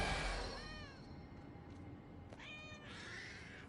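Cat meows from a player in cat form in the video game Ark Survival Ascended, two separate drawn-out meows with a gap between, fairly clear over low game background noise.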